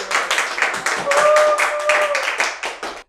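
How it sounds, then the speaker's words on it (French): Audience clapping for musicians at a live concert, a steady burst of hand claps mixed with crowd cheers and a sustained whistle-like tone, fading out near the end. "Un tonnerre d'applaudissements pour ces musiciens qui sont là avec nous."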